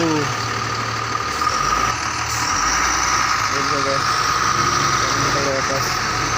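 A vehicle's engine rumbles steadily as it comes along a rain-soaked, foggy mountain road blocked by bad weather, a continuous low drone with a few brief higher tones partway through.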